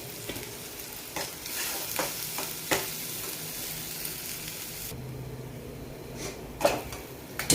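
Masala gravy for matar paneer sautés in a pan with a continuous close sizzle, punctuated by repeated stirring scrapes and a louder clink near the end; no talking.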